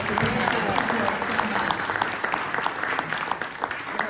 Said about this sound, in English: let's give them a round of applause for this session